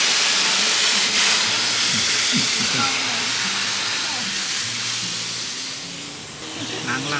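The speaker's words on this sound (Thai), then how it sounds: "ชาวบ้านกำลัง ล้างผักครับ" Villagers washing vegetables with water in a mountain village in the rainy season, a steady broad hiss of running, splashing water throughout, with faint voices and low rumbles beneath.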